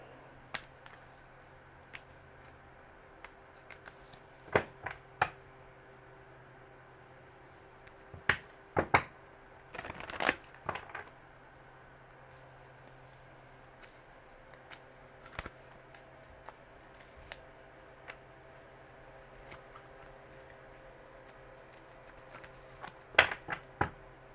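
Soft riffling and crisp snaps of cards being shuffled, in scattered sharp bursts over a quiet background hum.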